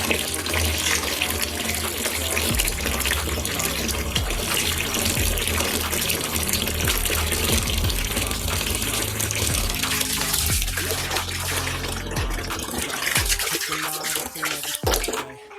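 Water runs steadily from a tap into a pot for fertilizing Scotch bonnet peppers, a continuous loud gushing and splashing that holds for about fifteen seconds before tapering off at the end.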